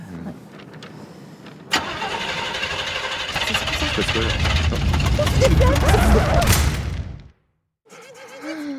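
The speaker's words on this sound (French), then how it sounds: "on va surtout essayer de faire redémarrer le moteur" A car engine cranks, catches and runs loud and steady for several seconds, then cuts out abruptly, with a voice heard around it.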